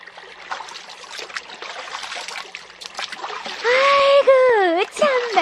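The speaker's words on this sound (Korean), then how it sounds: "더울 땐 개울에서 멱 감는 게 가장 좋지." Water splashes and dribbles as someone bathes in a stream in the heat of summer. The splashing runs steadily under the scene, and a high, excited voice cries out loudly near the end.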